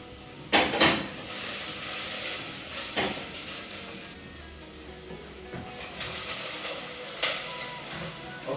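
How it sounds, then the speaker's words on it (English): Onion and garlic bits frying in a pan for a vegan meal, a steady close sizzle broken by a few louder stirring scrapes and clinks of a utensil against the pan. "now I just let the bits of onion and garlic get golden"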